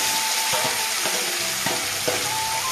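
Pangas fish fries in hot oil in a wok, giving a dense, continuous sizzle up close. Occasional soft scraping sounds from stirring break through the hiss.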